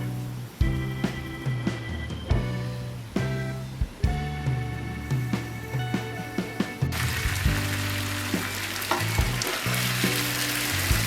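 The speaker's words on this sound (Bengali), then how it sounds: "চুলার আঁচটা একদম কমিয়ে আমি দশ মিনিট ঢেকে রান্না করব" Small puti fish cook in a covered pan on low heat, with a steady close sizzle and crackle running throughout, broken by sharp clinks and taps. No one speaks.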